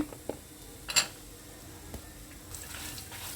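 A utensil stirs turmeric, asafoetida and grated coconut in a pan. It makes a few faint, scattered clinks and scrapes, with one sharper tap near the start, over a quiet kitchen background.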